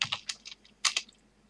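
Short bursts of keystrokes on a computer keyboard as a command is entered in a Minecraft server chat, a quick cluster of clicks, a pause, then another sharp pair of taps and a few faint trailing presses, close and clear with no talking.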